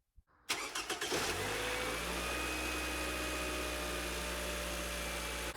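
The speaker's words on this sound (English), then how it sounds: "As you can see, our engine is working properly." A Toyota engine with newly replaced spark plugs cranks and catches, then settles into a steady, loud idle that holds for several seconds with no voices over it.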